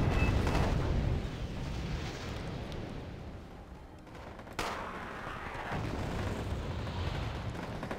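Distant artillery bombardment in the video game Wargame Airland Battle: dense, low rumbling booms rolling on without pause for about eight seconds, with one sharper blast partway through and no talk.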